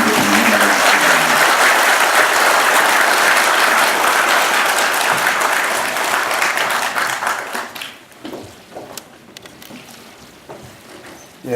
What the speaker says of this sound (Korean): 큰 박수로 문재인 전 대통령을 맞아주시기